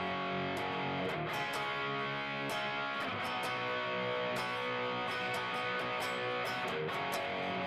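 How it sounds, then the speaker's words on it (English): Electric guitar played with heavy distortion fills the clip continuously, a loud, dense wall of sustained chords with sharp pick attacks at irregular intervals and no talking. "like now we're playing with some more distortion."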